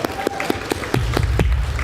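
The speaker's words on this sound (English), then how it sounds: "Let's give him a round of applause." A congregation at a Sunday service claps, with distinct, evenly spaced hand claps close by, joined by a low rumble of movement in the room partway through.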